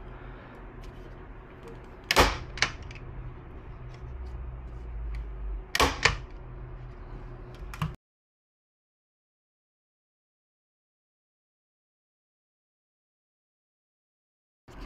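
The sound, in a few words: stapling canvas to a frame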